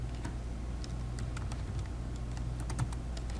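Typing a comment on a computer keyboard, a quick patter of soft key clicks under a steady background hum, fairly faint and continuous.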